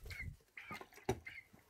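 Chickens resting up high cluck softly at close range, a few brief low calls and chirps over quiet rustling.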